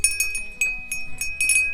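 A small bell on a dairy goat's collar clinks and jingles in several quick bright bursts as the animal moves, close and fairly clear, with faint low rustling between the rings.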